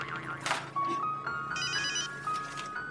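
A telephone ringing indoors in a Marathi TV comedy, a melodic electronic ringtone playing repeatedly at moderate volume with no talk over it.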